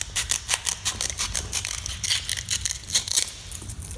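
Cheap scissors snipping through sandpaper while cutting a homemade band file, a steady run of crisp, gritty clips and rasps close up with no talking.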